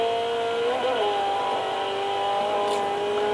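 A Ford Escort MkII race car engine revs hard on track at Nordschleife and drops briefly with a gear change, a close, steady in-car drone with talk over it.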